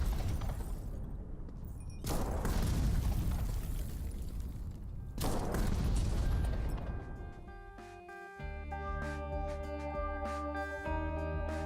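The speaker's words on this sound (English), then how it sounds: "some freeway noise was used for the thrust sound of the rocket launcher" Rocket launcher thrust for a video game, built from recorded freeway noise: two long, loud roaring rushes that flare up suddenly and then give way to a metallic, tonal mechanical hum.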